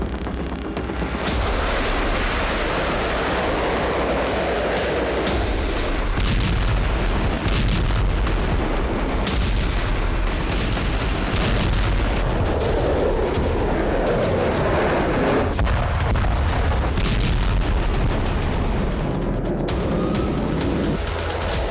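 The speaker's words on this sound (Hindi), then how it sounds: "जोरदार धमाके के साथ आसमान में तेजी से उठता बारूद से सने धुएं और आग का गुबार।" Heavy, continuous rumbling blasts from an air strike roll on for over twenty seconds, loud booms layered over a dense, roaring background with no voices.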